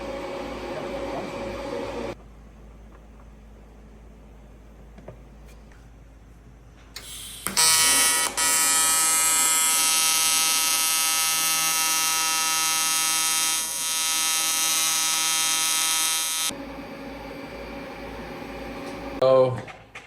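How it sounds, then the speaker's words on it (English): A TIG welder on stainless steel, an Everlast Typhoon 500, starts with a sharp click and gives a steady loud electric buzz and hum for about nine seconds, then cuts off. Voices talk before and after the weld. "that's what he's doing with the stainless right now when he's welding it"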